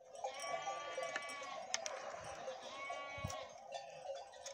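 Newly bought young goat kids bleat on a farm, several overlapping wavering cries repeating close by over a steady background hum, with a few sharp knocks and thumps between calls.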